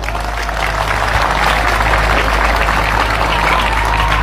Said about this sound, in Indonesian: Maka tepuk tangan untuk Nazhatul Thullab.